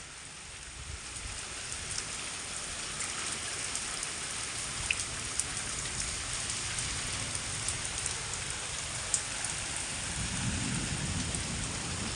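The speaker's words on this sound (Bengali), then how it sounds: "দেখছো মেঘ ডাকছে কেমন" Steady, dense rain falls with thunder rumbling through it, the low rumble swelling toward the end; no one speaks.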